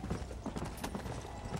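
Horse hooves clip-clopping at a steady rhythm from an apocalypse horse in the video game Red Dead Redemption: Undead Nightmare, with continuous close hoofbeats and no talking.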